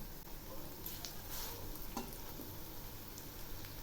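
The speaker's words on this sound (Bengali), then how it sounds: "এবার ওই তেলে আমি বড়া ভেজে নিচ্ছি।" Cabbage fritters frying in hot oil, a soft continuous sizzle and crackle with a few faint clicks, quiet and steady throughout without talk.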